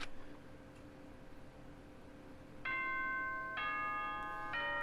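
A school announcement chime from the Danganronpa: Trigger Happy Havoc visual novel: a sequence of bright, sustained bell-like tones rings out in clear steps over a quiet hum, fairly loud and with no voices.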